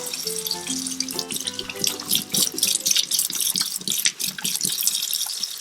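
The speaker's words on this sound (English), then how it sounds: "Nice to wash my hands." Tap water runs into a sink as hands are washed. A steady splashing flow is broken by irregular sloshes and drips from hands moving under the stream. It is close and fairly loud, with no voices.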